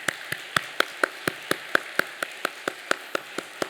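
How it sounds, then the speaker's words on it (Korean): A church congregation at a Sunday worship service claps in steady unison, roughly sixteen sharp, evenly spaced claps at a brisk rhythm, moderately loud with no voices over them. "우리 하나님께 우리 감사의 박수 한번 올려드리면 좋겠습니다"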